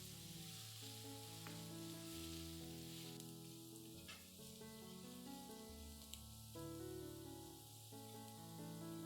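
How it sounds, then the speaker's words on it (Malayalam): Curry leaves and dried red chillies sizzle and fry steadily in a pan for a Kerala-style okra curry, a continuous close crackle with stirring, no talking. "കുറച്ച് കറിവേപ്പില, 3 വറ്റൽമുളക്, ഇത് രണ്ടും കൂടി ചേർത്തിട്ട് നന്നായിട്ട് വഴറ്റുക."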